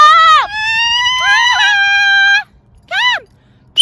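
A pet baby bird up in a tree screams with loud, shrill, harmonic calls: one long wavering cry followed after a gap by a shorter piercing one, close and dominant.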